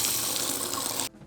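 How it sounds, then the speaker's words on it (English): Water gushing steadily into a knapsack sprayer tank for about a second, close and fairly loud, then cutting off abruptly. "I'll just put some water in there."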